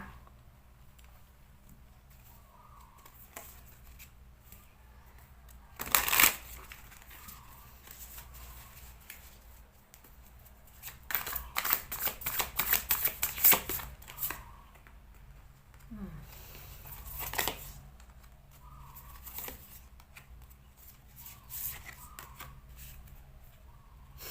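Fortune-telling cards shuffled by hand, with a short burst of riffling and then a longer run of crisp shuffling patter, fairly quiet beneath a speaking voice.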